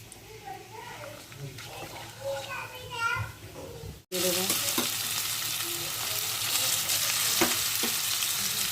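Bay leaves, cinnamon and cardamom hit hot oil in a pan for carrot halwa, setting off a loud, steady sizzle that bursts in halfway through, after a stretch of children's voices and household sounds.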